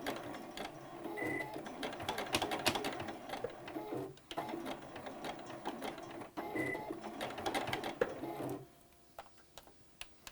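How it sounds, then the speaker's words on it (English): A sewing machine back stitches over a pleat on a fabric face mask with ties, a fitted nose piece and a filter pocket. Its steady mechanical whir and rapid needle clatter run for several seconds, then stop, leaving a few quiet clicks. "You also want to back stitch over that pleat to make sure it's nice and secure."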